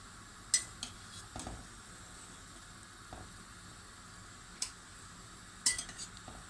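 Boiled içli köfte lifted from a pot of simmering water with a metal skimmer: a few sharp metallic clinks and scrapes, spaced out over a low steady bubbling hiss, fairly quiet and close.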